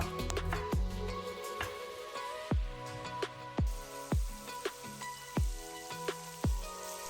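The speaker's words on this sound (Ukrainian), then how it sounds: "і додаю до шкварчащого бочка" Pork belly sizzles quietly in oil in a pot for bigos, a steady frying crackle with occasional soft pops and clicks; no voices.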